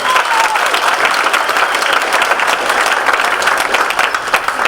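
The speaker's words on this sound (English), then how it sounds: "if we could give a big applause to Austin Gourmet Catering for this evening's great meal" Full, steady applause from a banquet hall audience at a May Day banquet, many people clapping together in a loud, continuous roar that holds at an even level throughout.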